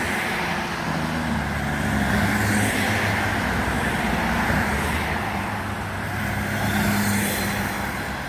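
Loud buses and heavy trucks pass on a Jamaican road, making a continuous close roar of engines with low rumbling tones that rise and shift, and no voices over it.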